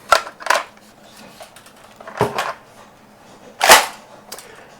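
A toy shotgun firing small shells, giving four sharp snapping pops at irregular intervals, the last one loudest, with quiet pauses between and no talking.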